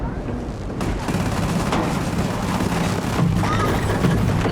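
Gunfire in the video game Starfield, dense and loud, with shots and booms packed together over a steady rumble of game noise.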